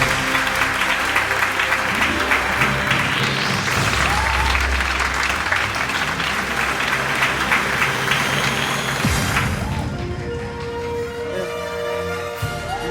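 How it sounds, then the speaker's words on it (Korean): Audience at a Korean book concert applauds as the author is welcomed onto the stage, sustained clapping over music, with the clapping easing off toward the end. "큰 박수 부탁드리겠습니다."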